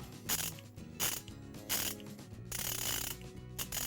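Gedore Red ratchet wrenches click in quick bursts of ratcheting, several separate runs of close, crisp, loud metallic ticking with short pauses between, and no voices.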